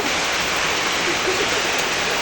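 Rain pours steadily on a goat farm, a loud, uniform hiss of heavy rainfall that holds constant throughout without pauses or voices.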